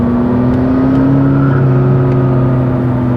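A McLaren MP4-12C with its exhaust in track mode drones steadily at close range, holding an even engine note for a few seconds without voices.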